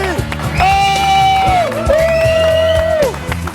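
A live audience at a stand-up comedy show cheers, whoops and applauds as comedian Bamba Bakari enters, a loud continuous crowd roar with sustained shouts rising and falling twice.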